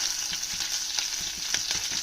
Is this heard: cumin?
yes